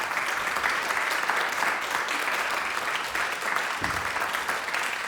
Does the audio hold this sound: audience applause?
yes